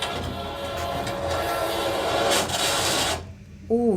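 An approaching train on railway tracks makes a loud, sustained rumbling clatter with a faint whine, which drops away sharply near the end as a brief voice comes in.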